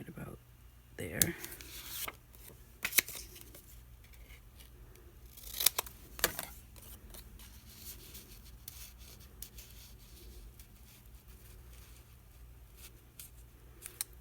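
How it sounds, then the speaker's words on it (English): Scissors snip through a paper tag in a few sharp, close cuts spread through the stretch, with soft paper rustling between them. "I'm going to cut that one right about there."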